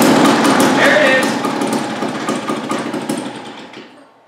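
An old 1950s two-cycle lawn mower engine, started for the first time in ten years, sputters with a loud, rough, rapid chatter that gradually fades away.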